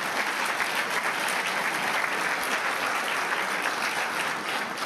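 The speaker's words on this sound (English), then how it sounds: "We give him a round of applause." Steady, even applause from a large audience at a gala dinner, moderately loud and continuous throughout with no voices on top.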